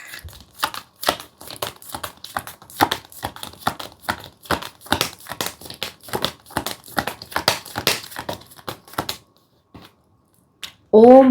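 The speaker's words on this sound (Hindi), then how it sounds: "वो आवाज़ तो आएगी जब शफल करेंगे तो" Tarot cards are shuffled close by in quick, rhythmic bursts of crisp riffling clicks for about nine seconds. A short pause follows, then a voice starts speaking at the end.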